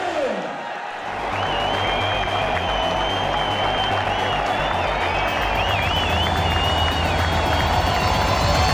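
An audience at a St Patrick's Day boxing event breaks into sustained applause and crowd noise for a welterweight fighter's ring introduction, starting after a brief quiet moment and holding steady and loud.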